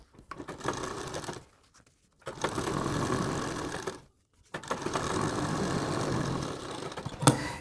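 A sewing machine stitches a sleeve in three steady whirring runs divided by brief silent pauses, close and moderately loud, with a small click near the end.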